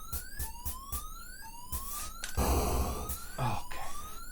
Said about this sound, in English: Thank God we have that alarm going off.